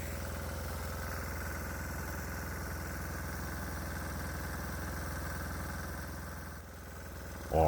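A diesel engine fed hydrogen and oxygen from an HHO unit runs at a steady idle with an even, low mechanical drone and faint knocking, close and unchanging until a brief dip near the end.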